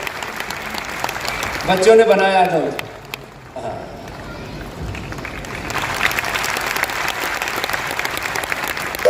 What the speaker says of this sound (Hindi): तालियां तो घनघोर हो जाए ऐसे।